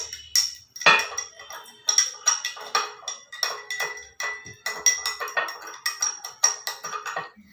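A spoon clinks and taps briskly against a dish while a solution is stirred for a science experiment, a steady run of close, bright strikes with no talking.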